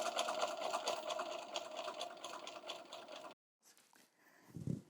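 Domestic sewing machine fitted with a stitch-in-the-ditch foot, stitching binding onto a quilt, runs steadily and close for over three seconds, stops abruptly, then faint handling noises and a soft low thump follow.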